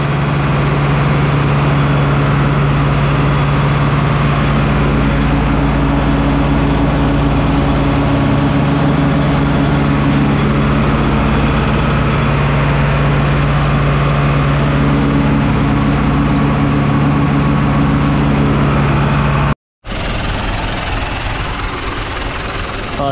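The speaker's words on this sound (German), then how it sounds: "Ich krieg sonst einen Rappel, wenn ihr den ganzen Hektar runter mulchst" A tractor driving a mulcher across a field: a loud, steady low engine drone with a constant hum and vibration runs close and unbroken, then cuts out briefly and resumes near the end.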